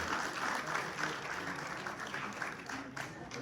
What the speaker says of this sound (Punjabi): ਭਰਪੂਰ ਤਾੜੀਆਂ